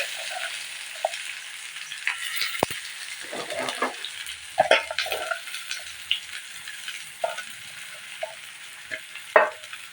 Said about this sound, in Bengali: তেলের ভিতর আমি দিয়ে দেবো পেঁয়াজ কুচি।